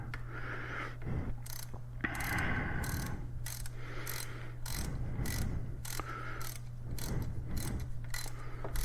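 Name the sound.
ratchet tightening bolts to 6 Newton meters on Husqvarna 701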